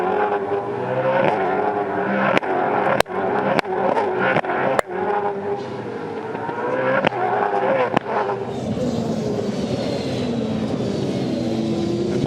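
Supercars race cars at Winton in 2013 roar past in a loud continuous engine howl, with sharp clicks and brief bursts punctuating the first eight seconds before the sound smooths into a sustained high whine.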